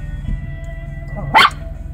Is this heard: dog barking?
yes